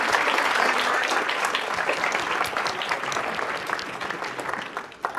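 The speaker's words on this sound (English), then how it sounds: "So everyone's, round of applause" An audience at a Canine Companions service-dog graduation applauds a departing breeder dog, a full, even clatter of many hands that gradually tapers off toward the end.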